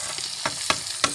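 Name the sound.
masala with cumin, tomato and coriander roasting in pan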